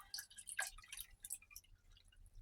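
Filtered water trickles and drips into a measuring cup in a home kitchen, a faint, close, uneven patter of small splashes lasting a couple of seconds.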